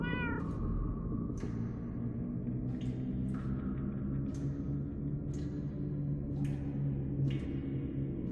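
Cats in Minecraft: Story Mode meow again and again, about one short call a second, over a constant low droning game background, with no voices.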